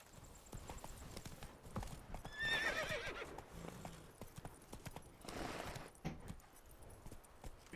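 Roach, a horse in the Witcher 3 video game, trotting with steady clip-clop hoofbeats and letting out a clear whinny partway through, amid faint ambient game sounds.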